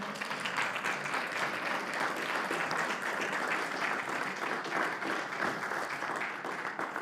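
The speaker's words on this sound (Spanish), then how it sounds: "Gracias por el aplauso" Sustained applause from a church congregation at a Spanish-language sermon, a dense, steady wash of many hands clapping that holds evenly for about seven seconds with no voice above it.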